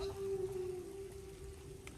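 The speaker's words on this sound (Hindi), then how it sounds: "बारिश पड़ रही है" Rain falls through a cold winter night outdoors, giving a steady, fairly quiet hiss with a faint constant hum running underneath for the whole stretch.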